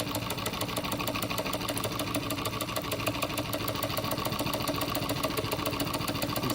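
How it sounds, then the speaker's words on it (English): A sewing machine stitches at a steady, rapid mechanical rhythm, its needle bar raised slightly for a fatter stitch; the close, continuous whirring and ticking hold an even level throughout with no talking. "So I just moved the needle bar up a little bit so you should get a nice fatter stitch here."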